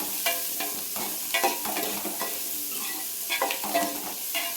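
Onions sauté in a pan for Tamil kara kuzhambu, a close continuous sizzle broken by frequent scraping stirs of a spoon against the pan.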